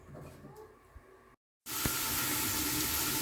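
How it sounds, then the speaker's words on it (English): Pork belly stew simmering in a big pot: a soft kitchen background, a brief dropout, then a loud, steady, close hiss of bubbling and steaming that holds without a break. "You're just supposed to let it simmer until it reduces a little bit."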